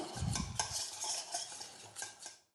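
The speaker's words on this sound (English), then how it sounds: "So we're just going to mix that in. until the butter's melted." A whisk stirring butter and whiskey together in a bowl for Austrian Christmas cookie dough, with soft, quiet scraping and swishing strokes in an irregular rhythm, close up.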